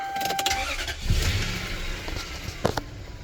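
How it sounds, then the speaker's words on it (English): A 1991 Toyota Celsior's engine cranks and catches with a short whirring start, then settles into a quiet, smooth idle at close range, with a few faint clicks and thumps around it. "I'll just start the engine."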